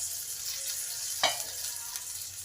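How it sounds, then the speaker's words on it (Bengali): Onion, garlic and ginger fry in a pan for a cauliflower and masoor dal dish, giving a steady close sizzle with one sharp stirring clank near the middle. "পেঁয়াজ রসুন আদা আমার ভালোভাবে ভাজা হয়ে গেছে"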